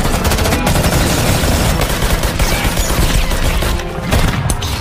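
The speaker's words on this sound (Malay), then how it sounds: "Dan terjadilah tembak-tembakan antara mereka" A gunfight from the action film Triple Threat, with loud, dense, continuous bursts of automatic fire and shots overlapping in rapid succession, a brief dip near the end, and no one talking.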